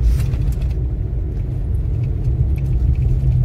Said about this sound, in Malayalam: വലിയ കാടാണെങ്കിലും വണ്ടികളൊക്കെ വരുന്നുണ്ട് ഇഷ്ടംപോലെ.